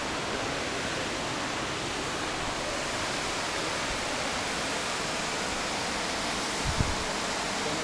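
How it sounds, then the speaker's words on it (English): Broad, steady roar of the waterfall at Ouzoud, Morocco's highest waterfall, heard close and loud as a continuous wash of falling water with no voices. "The highest waterfall in Morocco."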